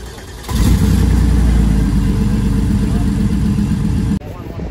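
A Porsche 964 engine starts with a brief crank, then settles into a loud, steady, rumbling idle close by at a car meet, cutting off abruptly near the end.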